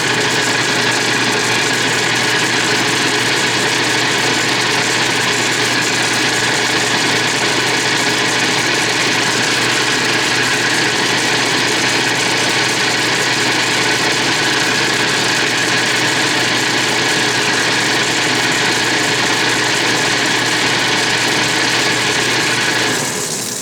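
A South Bend lathe turns a milling arbor at too slow a speed or feed, giving a loud, continuous, even machine drone that holds steady throughout.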